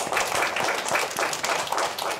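Schoolchildren in a classroom clap together in a steady, busy patter, a dense and fairly loud wash of hand claps with faint voices mixed in.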